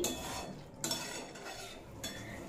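Ridge gourd and potato curry is stirred in a pan. A spoon scrapes and clinks against the metal in a few short strokes, quiet and close, with a faint sizzle beneath.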